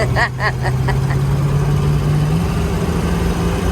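An Oldsmobile 350 Rocket V8 engine in a 1972 Oldsmobile Cutlass Supreme Convertible idles with a steady low rumble, a few brief chirps or squeaks at the start, then an even, continuous drone.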